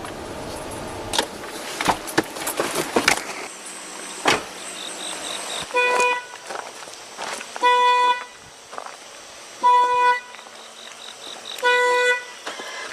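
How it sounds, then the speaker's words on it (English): Car alarm going off at night, repeated bursts of electronic tones and horn-like toots in regular pulses, preceded by scattered knocks and rustling, moderately distant. "The alarms keep going off."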